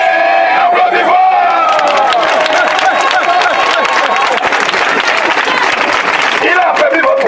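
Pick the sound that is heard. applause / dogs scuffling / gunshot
applause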